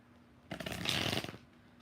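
Tarot cards being shuffled in the hands, a single quick riffling burst lasting under a second, close and crisp against a quiet background.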